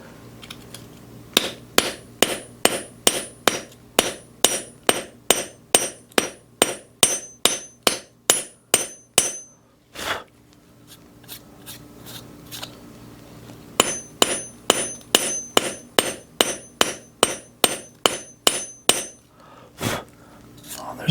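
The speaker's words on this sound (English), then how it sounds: "let's put that on there and we'll give it a few taps with the hammer and see what happens" A hammer taps drywall mesh laid on a copper sheet to texture the metal, giving a long run of sharp, evenly spaced metallic strikes in two bursts separated by a short pause; the blows are close and loud, with no talking.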